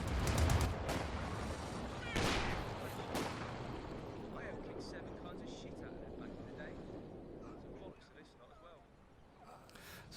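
AT rifle grenades explode in the Company of Heroes 2 battle, with several sharp blasts in the first few seconds and rumbling battle noise fading afterward, all beneath continuous commentary.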